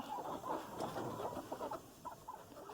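Young laying hens clucking at a homestead feeder, a cluster of soft, overlapping clucks and murmurs close by with steady low background noise and no talk.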